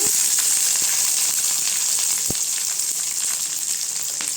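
Onion frying in hot oil with curry leaves and dried red chillies in a pan for pirandai chutney, a loud, even hiss of frying throughout with a few faint clicks and one sharp knock.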